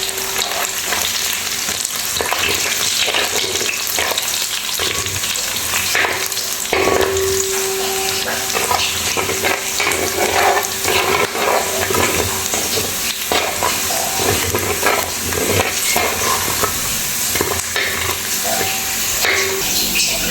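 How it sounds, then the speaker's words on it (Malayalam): Soybean pickle masala frying in a pan, a loud dense crackling sizzle that runs throughout, with the spoon scraping and stirring in it and a faint watery hiss. "പതിയെയൊന്ന് ഇളക്കി അതിൻ്റെ പച്ചമണം തോന്നാം."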